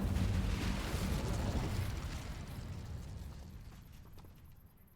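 An Incendio fire spell cast in Hogwarts Legacy makes a single fiery blast that starts loud and close, then rumbles and crackles as it slowly fades away over a few seconds.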